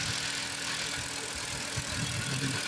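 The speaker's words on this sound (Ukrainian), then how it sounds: "Запустив двигун. В принципі, працює досить тихо." A 2012 Volkswagen Passat engine idling steadily and quietly, a smooth constant hum with a faint low rumble and no revving.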